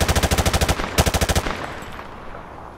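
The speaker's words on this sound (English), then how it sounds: "Turn around and fire at the targets." Automatic weapon in the Modern Warfare 2 video game firing at targets in two rapid bursts, loud and close, the second burst trailing into a fading echo.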